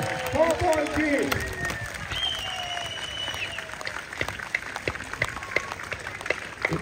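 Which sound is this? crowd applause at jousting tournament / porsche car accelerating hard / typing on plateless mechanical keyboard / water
crowd applause at jousting tournament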